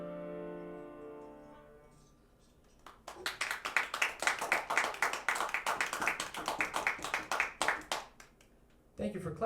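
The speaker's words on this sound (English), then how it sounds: "Thank you for clapping." Audience at a comedy club gig at The Bitter End claps in a dense burst of many hands lasting several seconds after a stand-up comedian's voice, fading before talk resumes.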